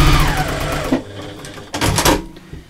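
A sewing machine top stitching a belt pouch runs in loud, fast mechanical bursts, stopping briefly and starting again in short runs close to the listener.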